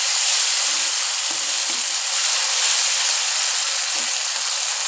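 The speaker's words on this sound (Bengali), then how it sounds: "তেলটা ভালোভাবে গরম হয়ে গেলে আমি ওই ভাজা মশলাগুলোর পেস্টটা এই তেলের মধ্যে দিয়ে দিলাম" Spice paste for egg korma sizzles in hot oil, a loud, continuous bright hiss close up, steady throughout with faint stirring knocks beneath.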